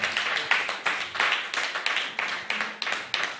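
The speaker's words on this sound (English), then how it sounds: "Clap it up for the Most High God." A congregation at a new moon worship gathering claps in a steady rhythmic beat, roughly two claps per second, loud and close, with no talk over it.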